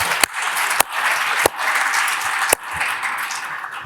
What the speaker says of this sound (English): I think you really need a round of applause to yourself.